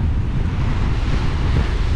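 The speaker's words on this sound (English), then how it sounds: "The wind is pumping, guys." Strong wind roars steadily across the microphone while big sea waves surge and wash at a shoreline, a constant loud rumbling blend with no talking.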